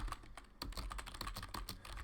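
Rapid typing on a computer keyboard, a steady run of close, crisp key clicks with no talking.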